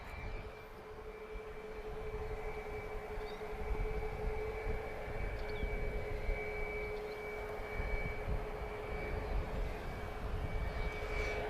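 A Ryanair Boeing 737 MAX jet departing Lisbon Airport for Dublin, a steady, distant engine rumble with a sustained tonal hum, fairly faint and unbroken, with no voices.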